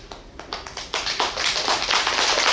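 Audience applause at a national poetry recital contest: a few scattered claps grow within a second into full, close clapping that holds steady to the end.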